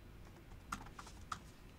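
A few soft, sparse keystrokes on a computer keyboard while a username and password are entered, quiet and close over a steady room hiss.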